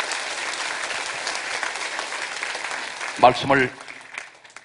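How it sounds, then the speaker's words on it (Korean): A church congregation applauds during a worship service. Broad clapping runs steadily under a preacher's voice, which speaks over it near the end as the applause fades. "박수 영광 돌리시기 바랍니다."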